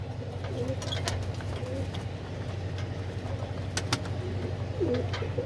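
Pigeons coo softly while drinking water, a few repeated low coos over a quiet background with a faint engine hum.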